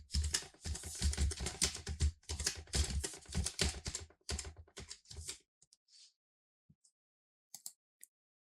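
Fingers tap out a project name in Tekla Structures on a computer keyboard, a dense, quick run of close keystrokes for about five seconds, then a few scattered isolated key presses.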